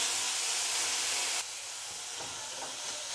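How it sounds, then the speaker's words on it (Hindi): A paneer mixture roasts over high heat in a pan with a loud, even hiss. The hiss drops to a softer level halfway through and then carries on steadily. "इसे गैस तेज करके 2 मिनट के लिए और भूनेंगे।"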